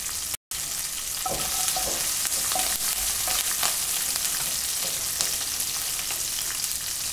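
Curry leaves and a pinch of asafoetida frying in oil, a loud steady sizzle close up with repeated stirring and scraping of the pan throughout.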